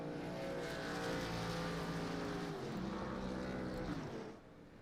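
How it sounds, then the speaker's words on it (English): A truck's engine drones steadily as it does burnouts and donuts in a racing video game at EchoPark Speedway, quite faint and continuous, shifting pitch slightly before tapering off at the end. "So we'll get to watch him do his donuts."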